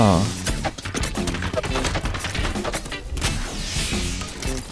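Rapid bursts of video game gunfire crackle over busy game sounds, with a voice talking throughout and a dense, loud mix of shots and impacts.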